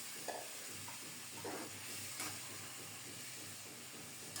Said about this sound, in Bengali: এখন সিদ্ধ করা মোচা দিয়ে দিলাম